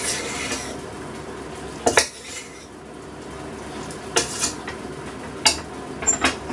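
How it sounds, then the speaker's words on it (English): A utensil clatters and scrapes in a pan as seasonings and other ingredients are stirred into browned beef mince for lasagna, with a few sharp knocks against the pan over a low background hiss. "So all these in, mix them into your meat."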